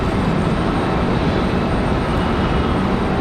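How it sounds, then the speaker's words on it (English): A Delta Airbus A319 lands on a runway at Raleigh-Durham International Airport, its jet engines making a loud, close, unbroken roar that holds steady throughout, with no voices. "Good looking touchdown for that A319 from Delta"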